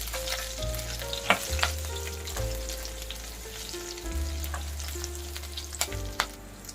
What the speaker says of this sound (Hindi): अब गैस स्लो करके 2 ग्रीन चिली बीच में से काट के डाल रही हूँ। और लहसुन को अब लाल होने देंगे।